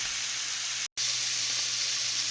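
Fatty taco meat sizzling and crisping in a pan; a steady, dense hiss runs throughout with one brief cut, and no one speaks.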